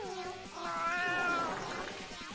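A single drawn-out cat meow from the video game Raise a Floppa 2 rises and fades over a couple of seconds, clear and fairly close.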